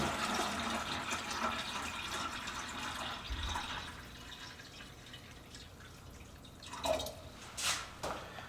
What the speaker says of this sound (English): we're just gonna pour it on in there till we get above the scale line